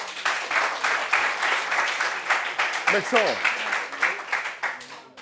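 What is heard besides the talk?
audience applause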